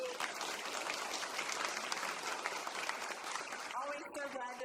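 Congregation applauding at a Unitarian Sunday worship service, a dense steady patter of many hands clapping throughout, fading as a voice begins at the end.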